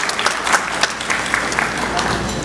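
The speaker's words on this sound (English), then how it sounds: "You can clap if you'd like to do that." An audience at an employee retirement dinner claps for a retiring school worker, scattered applause from many hands with faint voices mixed in.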